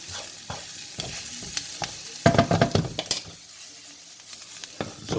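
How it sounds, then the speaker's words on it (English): Onions and garlic frying in a pan for a sausage casserole, a steady low sizzle broken by clattering spoon stirs, with a loud burst of scraping and crackle near the middle before it settles back to gentle frying. "So we've got them cooking away just nicely with the garlic."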